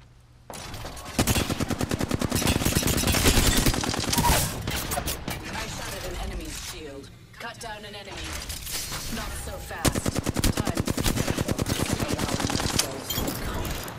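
Rapid automatic gunfire from Apex Legends plays almost continuously in loud bursts with brief pauses, mixed with game effects, while players talk over the shooting.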